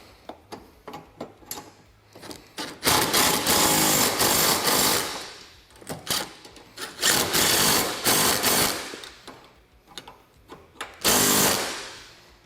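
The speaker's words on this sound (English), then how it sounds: "Then we're going to go ahead and fully tighten our cage hardware here." Hardware on the cage of a Yamaha Wolverine RMAX 1000 being tightened, likely with a power tool, during a flip windshield install: several loud, sustained bursts of whirring and rattling separated by short pauses, with no talking.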